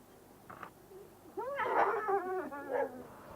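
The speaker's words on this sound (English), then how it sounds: "there's somebody else's dog having a go over Shake there" Another dog nearby, heard outdoors with a pet dog, gives a short yip and then a run of whining, whimpering barks, moderately close and alone without talk.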